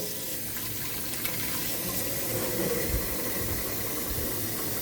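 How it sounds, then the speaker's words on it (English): Warm tap water pours steadily into a pot of navy beans, a continuous close splashing rush with hissy texture that runs unbroken throughout, with no voices. "We can add warm water now."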